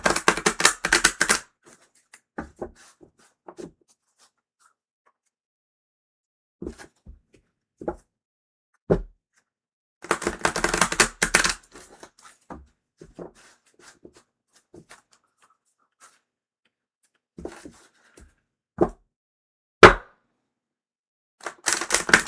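Tarot cards being shuffled by hand, two longer riffling bursts separated by scattered soft taps and slaps of cards, close and dry against silence.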